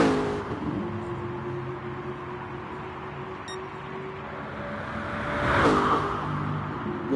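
A race car in a casual racing video game pulls out of the pit after refuelling, its engine whirring steadily and then swelling as it accelerates past, fairly faint and with no one speaking.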